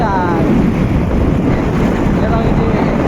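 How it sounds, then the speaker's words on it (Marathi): Strong wind buffets the microphone outdoors, a loud, steady rushing roar with low rumble throughout, and faint voices under it. "पुढे हवा सुटेला एकदम ताकद ना"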